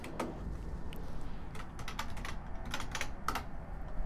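Quiet keystrokes on a computer keyboard for a chat entry in EVE Online, a run of light irregular clicks with a few quick bursts over faint background hum.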